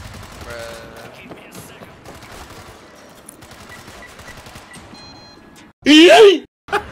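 Gunfire from a World War Z zombie shooter game, a dense low crackle of rapid shots running under excited talk, then a sudden loud burst near the end.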